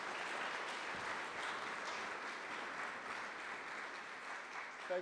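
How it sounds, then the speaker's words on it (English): Steady audience applause at a literature festival session welcoming a speaker, a dense, even wash of clapping from a large crowd lasting throughout, heard from a distance in a hall. "So please give a loud applause for Giles Milton."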